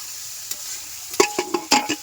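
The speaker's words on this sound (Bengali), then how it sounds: "শুকনো লঙ্কা দেওয়া হবে তেলের মধ্যে দিলাম একটা শুকনো লঙ্কা" A dried red chili drops into hot oil in a village home kitchen, giving a few quick crackling pops and sizzles amid low background hiss.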